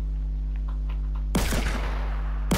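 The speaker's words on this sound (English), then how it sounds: "I hear gunshots, I'm scared." A burst of rapid gunfire in Fortnite erupts after a steady electronic hum, dense and loud for about a second before cutting off.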